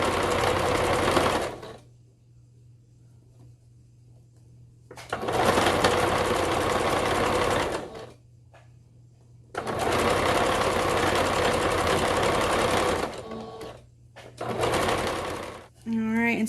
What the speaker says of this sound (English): I am stitching the underneath here so that I can make sure that I'm stitching the seam down.